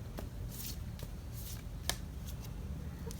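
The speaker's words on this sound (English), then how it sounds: "Okay, I'm gonna shuffle some more." Soft papery riffles of tarot cards being shuffled in short bursts, with a few crisp snaps between them, close by over a low background hum.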